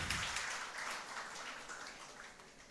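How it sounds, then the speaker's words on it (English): Audience applause at an international conference, a dense steady wash of many hands clapping together, moderately distant and holding at an even level throughout. "Please give a huge round of applause."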